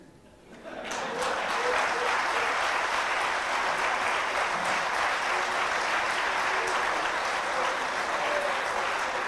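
An audience applauding at a felicitation event of a Marwari community gathering, dense, sustained clapping that swells in quickly and holds steady and loud throughout.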